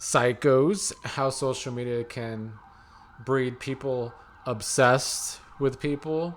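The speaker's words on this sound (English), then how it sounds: "Apologies for the sirens." Emergency vehicle sirens wail outside as a long steady tone in the background while someone talks continuously over them, the siren faint and partly masked by her voice.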